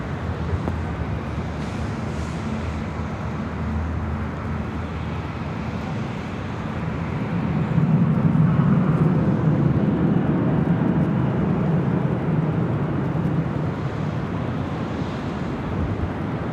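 A jet airliner takes off from runway 24 left at LAX, its steady broadband engine roar swelling in the middle and then holding, heard alone with wind rumble.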